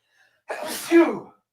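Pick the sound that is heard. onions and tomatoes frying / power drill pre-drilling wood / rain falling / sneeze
sneeze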